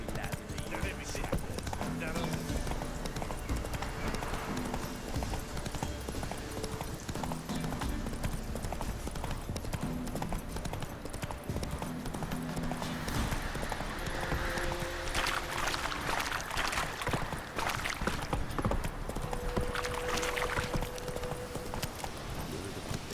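Roach, Geralt's horse in the video game The Witcher 3, gallops with a steady, rhythmic clip-clop of hoofbeats mixed with game music and ambience, while voices talk over it.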